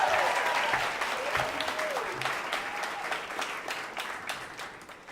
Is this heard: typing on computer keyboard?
no